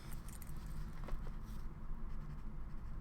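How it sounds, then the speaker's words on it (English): A pen scribbling maths equations by hand on paper, continuous close scratching strokes over a steady background hum, with no talking. "Let me just scribble it down one more time so I don't mistakenly type it."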